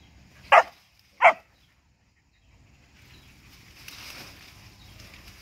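A hunting dog gives two sharp, loud barks close by, evenly spaced, and then quieter, rustling background noise follows.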